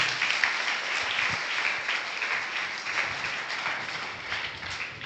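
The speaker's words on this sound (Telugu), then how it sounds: "చప్పట్లు అన్న కొట్టండి." A church congregation at Sunday worship claps together in sustained, dense applause that fills the room, steady and fairly far off without a distinct rhythm.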